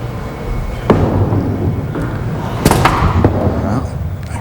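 A five-pin bowling ball rolls down the lane at a televised tournament and strikes the pins, producing sharp clattering cracks over a muffled, echoing hall with a low murmur of voices.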